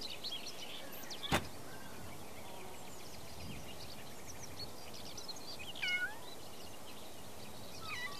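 A cat meows briefly and faintly in a quiet room, one or two short mews among soft background noise and a sharp knock.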